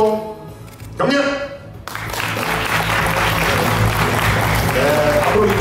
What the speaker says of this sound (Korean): 큰 박수로 여러분들 환영해 주시면 감사하겠습니다